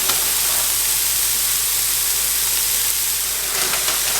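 A pot of boiling water with rice vermicelli noodles cooking in it gives off a steady, close, fairly loud hiss and bubbling roar that stays constant throughout, with no voices over it.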